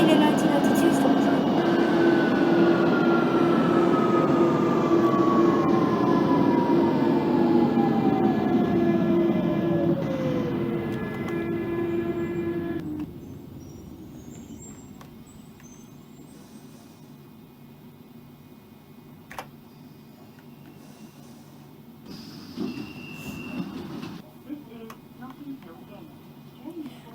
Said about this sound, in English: I genuinely feel like I'm a passenger in a 1992 style train.